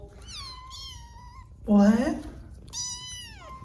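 Rescued kittens from Eastern Kentucky flooding meow in a makeshift break-room shelter: several high, drawn-out cries near at hand, with a short spoken word breaking in between them.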